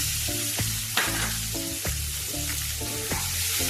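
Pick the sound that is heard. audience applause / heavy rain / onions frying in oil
onions frying in oil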